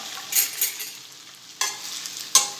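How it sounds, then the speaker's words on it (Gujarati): Sesame seeds and curry leaves crackle in hot oil for corn flour muthiya, a soft steady sizzle broken by a few sharp popping bursts and stirring scrapes, close and alone. "તલ ફૂટવા લાગ્યા છે એટલે આપણે આ મૂઠિયા એડ કરી દઈશું"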